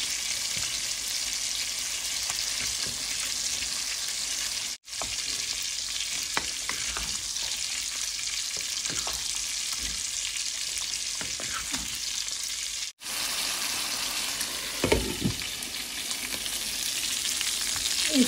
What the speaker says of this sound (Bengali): এখন চিকেনগুলো দিয়ে দিব।